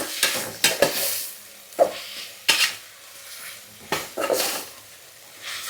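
Ginger garlic paste and tomato for prawn biryani are stirred in a pot. Irregular bursts of metal spoon scraping and clinking sound close by over a faint sizzle, with quiet gaps in between.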